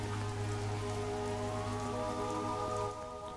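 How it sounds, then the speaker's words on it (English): Steady rain pours in the Schedule I video game, a dense, even wash of droplets on surfaces that holds loud and constant throughout, with no talk over it. "Ah, now it's raining. It's raining,"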